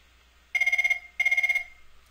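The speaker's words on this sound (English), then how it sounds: "And sure enough, the phone rings." A telephone rings after a local PSTN number is dialed through an outside line. Two short, close, trilling ring bursts are heard with a brief gap between them, and no talking.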